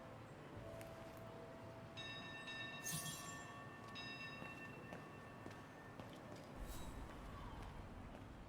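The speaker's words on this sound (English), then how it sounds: "Let's take the tram back to the guest house." Tram ride in the video game Syberia: The World Before, a steady rail-car rumble and hum with tonal whines and a couple of brief bell-like chimes over the continuous rolling drone.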